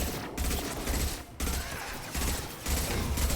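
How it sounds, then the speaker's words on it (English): An enemy turret fires in Mass Effect 2, a continuous rattling volley broken by short pauses, steady and fairly loud with no talk over it. "Enemy turret!"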